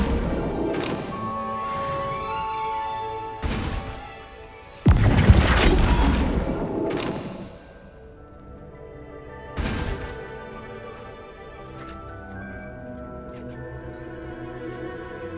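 Spell effects from Hogwarts Legacy, Levioso and Flipendo cast in a greenhouse: sharp whooshing bursts and a heavy booming impact with a rumbling tail, several spaced casts over quiet game ambience.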